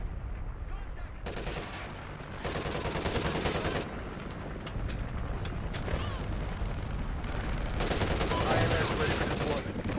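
Sustained automatic gunfire in Call of Duty Ghosts rattles in long dense bursts separated by short gaps, loud and close, with scattered single shots and a voice talking underneath.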